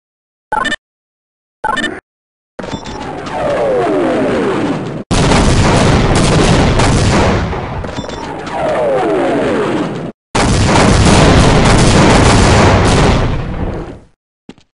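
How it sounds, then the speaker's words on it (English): Airstrike explosions in Half-Life's Surface Tension: a few sharp blasts, then long, loud roaring booms that follow one another with short gaps, close and overwhelming. "we are pulling out and commencing airstrikes"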